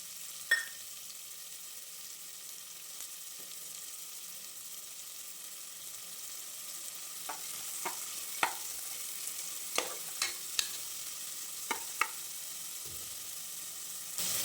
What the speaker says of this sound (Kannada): ತುಪ್ಪ ಬಿಸಿಯಾದ ನಂತರ 1 ಕಪ್ ಈರುಳ್ಳಿ ಹಾಕಿ ಫ್ರೈ ಮಾಡಿ.